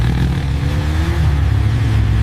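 A cartoon motorbike engine revs in a short, loud burst, a smooth rising whine over a low rumble.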